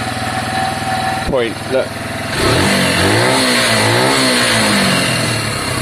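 A Piaggio Fly 125 scooter engine idles with a steady close drone, then revs up and settles back in repeated swells. Someone speaks briefly over the running motor.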